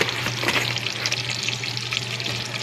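Flour fries in butter and oil in a pan, with a loud, steady sizzle and crackle close by and light stirring throughout.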